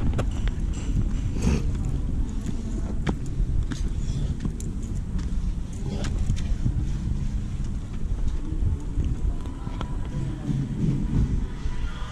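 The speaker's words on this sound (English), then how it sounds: "It's starting to get windy out here." Steady outdoor wind rumbles and buffets the microphone throughout, a dense low roar with occasional gusty bursts and faint clattering.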